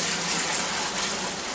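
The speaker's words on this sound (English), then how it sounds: "the wort has cooled off enough that it's time to pour it into the fermenter. We'll strain it out with this here strainer" Continuous gushing splash as cooled dark wort for an all-grain black IPA pours through a strainer into a fermenter, steady and close.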